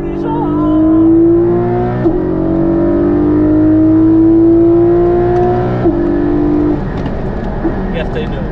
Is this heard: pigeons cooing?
no